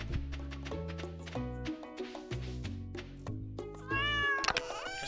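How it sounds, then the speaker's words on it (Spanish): A cartoon cat in the farming game Stardew Valley lets out a string of meows over bouncy background music, with a longer, higher cry near the end. "La verga de pinche gato."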